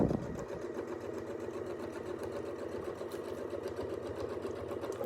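A sewing machine stitching fabric guided along a Westalee ruler, running in a fast, even, continuous patter at close range and fairly quiet, with no talking.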